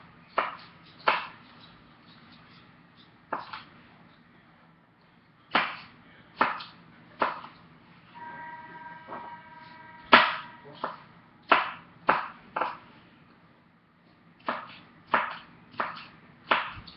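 A knife chops onions and peppers on a cutting board in a home kitchen, sharp knocking strikes coming in short irregular bursts with pauses between, close and clear, with a brief electronic tone sounding partway through.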